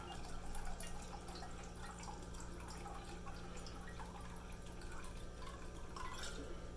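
Orange liqueur is poured into a 1.75 liter bottle, making a faint, steady trickle and drip of liquid that runs continuously at a low level.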